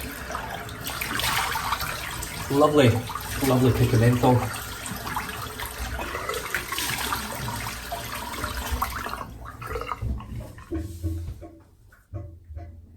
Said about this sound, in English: Rinse the sink out.